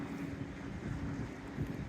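Wind gusting across the deck of a river cruise ship on the Rhine near Kinderdijk, Netherlands: a steady low rumbling buffet with no voices.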